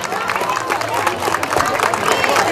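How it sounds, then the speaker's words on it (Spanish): A crowd at a Christmas pastorela in Cutzamala de Pinzón, Guerrero, Mexico, applauds with dense, continuous clapping at a lively level, with no pause. "Doña Rosita, un aplauso para ella."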